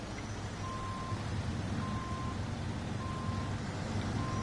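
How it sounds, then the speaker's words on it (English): A large truck reverses with evenly spaced backup beeps repeating about once a second over a steady engine rumble and road noise, with no talk. "He's got that giant truck"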